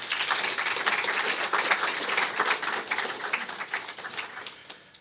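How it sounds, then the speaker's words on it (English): An audience at a regional project launch applauds its presenters with a dense, even patter of clapping that holds steady and then fades slightly at the close. "Please join me in showing our appreciation by giving our presenters another round of applause."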